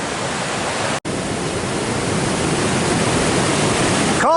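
Collie Creek rushes loudly close by on a backcountry hike, a steady, dense roar of tumbling water that fills the scene, cut off only by a brief dropout.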